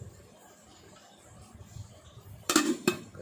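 A lid goes onto a cooking pot during a dried-fish fry, landing as two quick metallic clanks after a stretch of quiet kitchen shuffling.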